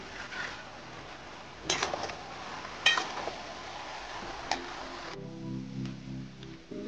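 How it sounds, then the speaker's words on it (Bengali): A spoon stirs and mixes flattened rice with fried peanuts in a pan for a Bengali chire murighonto, giving soft scraping and a few sharp clinks against the metal. A faint hum sits underneath, with no talk. "বাকি চিড়েটাও আমি মিশিয়ে নিচ্ছি। পুরো চিড়েটা আমি দিয়ে দিলাম। এবার এটা ভালো করে মিশিয়ে নেব।"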